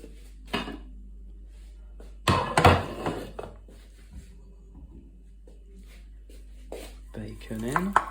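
Crispy bacon pieces scraped and dropped into a slow cooker pot, a few clattering metal-on-pot scrapes and taps in short bursts with quiet gaps, close by.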